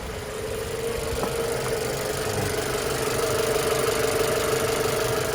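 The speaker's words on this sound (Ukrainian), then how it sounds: "На холостому працює на бензині." A Jeep Cherokee with a 2.4 engine, fitted with an LPG conversion but running on petrol, idles steadily and close by, a continuous low rumble with light knocking and a faint whine, with no talk.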